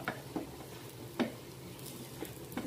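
An oats omelette of three eggs frying in a pan, a faint soft sizzle broken by a few light ticks and pops.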